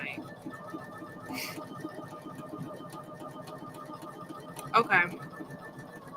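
A Poolin EOC06 single-needle embroidery machine stitching steadily, a fast even mechanical chatter running throughout, with a brief spoken word and a couple of short clicks over it.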